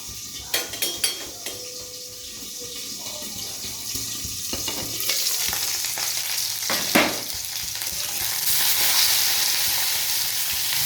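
Vegetables fry in oil in a kadhai with mustard paste, giving a continuous sizzle and crackle with occasional stirring scrapes and clinks, moderately close and without talk.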